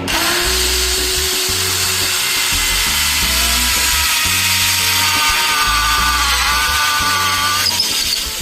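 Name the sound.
power drill drilling 11 mm hole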